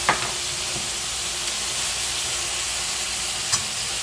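Curry with potatoes and rohu fish frying in a pan, a steady broad sizzle and hiss throughout with a couple of brief stirring clinks, close and alone.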